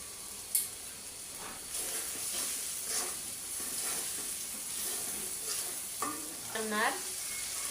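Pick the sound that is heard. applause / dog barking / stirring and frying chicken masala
stirring and frying chicken masala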